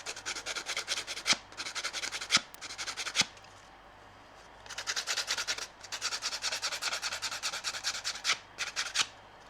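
Sandpaper rubbed over a painted wooden craft background, with rhythmic scratchy back-and-forth strokes in close bursts, broken by a short pause midway.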